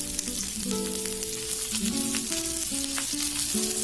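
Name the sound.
frying onions, green chillies and tamarind for onion chutney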